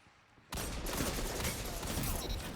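Gunfire in a Destiny 2 Crucible survival match erupts suddenly from near silence, a loud dense stream of shots that continues steadily to the end, close up with no voices over it.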